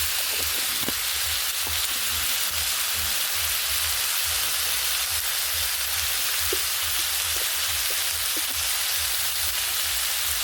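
Dried fish fries with spices in a pan, giving a steady, dense, rain-like sizzle that stays loud and even throughout, with a few faint clicks over the hiss.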